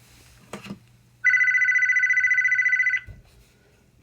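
A telephone gives one long electronic trill lasting almost two seconds, loud and close, after a short knock, in an otherwise quiet room with a low hum.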